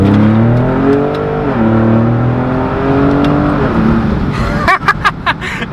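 A loud Ford Raptor truck engine revs hard and close, its deep growl rising and falling through several pulls, with a few sharp pops and rumbling bursts toward the end.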